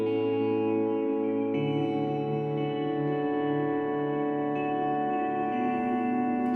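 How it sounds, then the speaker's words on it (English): Several layered riffs run together in a steady wash of sustained tones, soaked in heavy reverb and delay so the notes bleed into one another, with a new layer entering partway through. "So there's a lot of reverb, there's a lot of delay, but they all kind of like bleed into each other"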